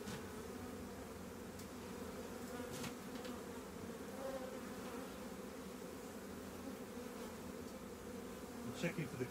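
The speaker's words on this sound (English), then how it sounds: "there's quite a few more bees down here." A soft, continuous drone of many honey bees buzzing together in a recently merged hive colony, steady and fairly quiet, with a few faint knocks near the end.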